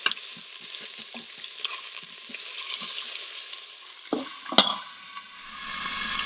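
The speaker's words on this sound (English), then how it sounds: "You're going to now take your onion and throw it in and stir it up real good" Chopped onion tossed onto tempered mustard seeds and cumin in an Instant Pot, giving a close sizzle with a series of quick spoon stirs and scrapes, then a louder clank and a quieter hiss.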